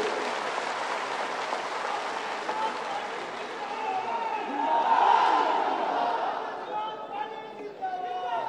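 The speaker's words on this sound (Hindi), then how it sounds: "एक बार जोरदार ताली से" Crowd at a political party rally claps and cheers, swelling louder midway with shouting and chatter mixed in, then easing off as voices carry on.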